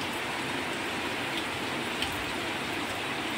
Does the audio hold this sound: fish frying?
no